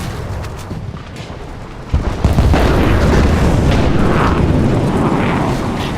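Shell impact in War Thunder, a tank round striking a tank: sudden loud boom near two seconds, followed by sustained rumbling, crackling battle noise that stays loud to the end.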